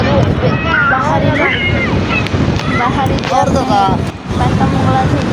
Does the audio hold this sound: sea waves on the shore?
yes